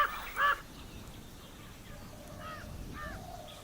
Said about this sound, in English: other scavengers, like the jungle crows, will take their turn